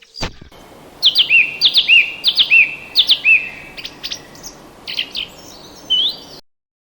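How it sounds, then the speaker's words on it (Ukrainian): Nightingale song: a run of bright, repeated whistled chirps in quick bursts, clear and fairly close against a quiet background, alone without talk. "Співає соловей вдень і вночі."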